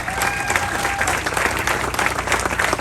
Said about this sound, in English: So Stephanie, stand up, take an applause, you deserve it.